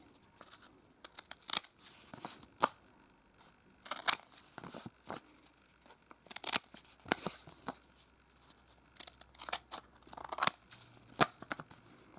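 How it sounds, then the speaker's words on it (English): Scissors repeatedly snip slits and cut corners off paper envelopes, with irregular crisp cuts and rustling paper handled close by, quiet and with no talking. "pierce the letter with slits or cut each corner off and allow any pestilent air to escape"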